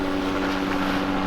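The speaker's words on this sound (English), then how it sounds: "Got a helicopter above" A continuous low droning helicopter engine hum with wind rush over Hollywood Beach, steady and unbroken as it passes overhead.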